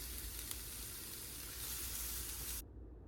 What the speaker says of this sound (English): preheat a tablespoon or 2 of oil on medium heat and saute the onions for about 5 minutes